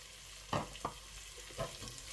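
Chopped tomatoes being stirred into frying onions in a pot for beef keema rice, a few soft scraping stirs over a quiet, faint sizzle, with no one talking.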